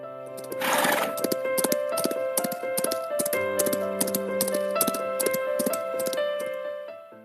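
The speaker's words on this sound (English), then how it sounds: "In a horse-drawn carriage, they were taking them towards their home." Hooves of a horse drawing a carriage clip-clop in a steady rhythm over several seconds, mixed with tonal background music and a short noisy swell near the start.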